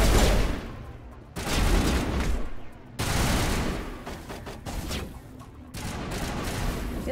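Video game gunfire from the player's weapon, dense bursts of rapid shots in clustered volleys with brief pauses between, loud and close, no talking over it.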